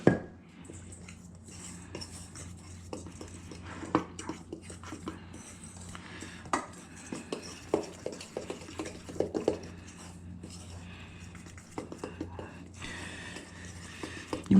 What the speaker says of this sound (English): we're again going to take a fork and just mix up all this dry ingredient